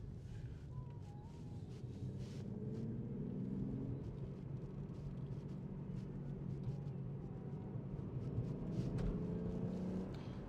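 1993 VW Corrado VR6 engine droning and gradually revving higher toward 3,000 RPM from inside the cabin, a steady low rumble with road and wind noise.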